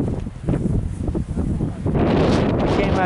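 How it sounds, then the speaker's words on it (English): Strong wind blowing hard outdoors in Jamaica, heavy buffeting gusts battering the microphone with a loud, continuous roar that intensifies in the second half. "That wind is blowing so bad."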